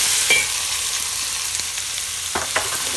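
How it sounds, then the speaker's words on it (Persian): Onions fry toward golden brown in oil for chicken biryani, an even, fairly loud sizzling hiss with a few soft knocks and scrapes from stirring. "پیاز دیگه شو باز تیزتر گلابی میکنیم."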